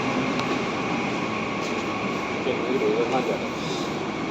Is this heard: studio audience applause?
no